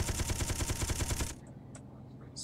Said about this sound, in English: so 2 Gatling guns.